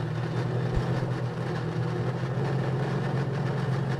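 Race cars roll into the pits after a race, a steady, loud, low engine drone that holds throughout with no voices.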